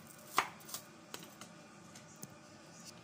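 An onion being finely chopped for chicken curry: sharp knife taps on a board, one louder strike followed by a series of lighter, irregular chops, close and quiet.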